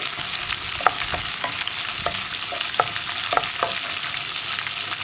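Cashews, almonds and raisins fry in hot ghee for green gram laddu, a steady sizzle broken by repeated light scraping and clinking of a spoon stirring the pan, close and without voices.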